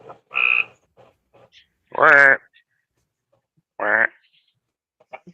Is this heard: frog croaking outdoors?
yes